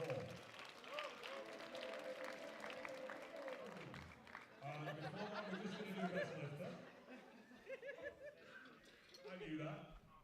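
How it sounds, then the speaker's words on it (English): Crowd at the 2025 European Open Classic Powerlifting Championships applauds the women's super heavyweight lifters, a steady sustained clapping mixed with laughter and chatter, with a voice talking over it throughout. "please join me in giving our super heavyweight ladies a huge round of applause"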